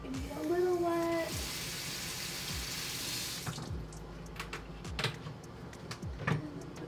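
Tap water runs steadily into a sink over a silicone brush-cleaning mat, then the flow is broken up as a makeup brush is wetted. A few wet splashes and knocks follow, close and fairly loud.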